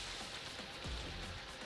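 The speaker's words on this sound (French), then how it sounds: "Par contre, il y a beaucoup de pluie. Il pleut" Rain in the video game Minecraft, a faint, even hiss of falling drops with no other sounds over it.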